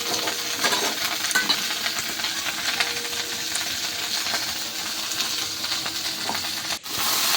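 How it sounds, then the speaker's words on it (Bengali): Onions fry with nigella seeds in a pan, giving a loud, continuous close sizzle with faint crackles and an occasional utensil clink, and no voice. "এর মধ্যে কালো জিরে ফোড়ন দিয়েছি আর পেঁয়াজ দিয়েছি"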